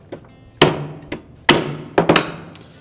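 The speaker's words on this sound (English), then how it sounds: "using our hammer, we're going to give it a sharp rap clockwise to loosen it" A hammer strikes the motor fork of a Whirlpool refrigerator ice dispenser in about five sharp, close metallic raps at an uneven pace, each with a short ringing decay.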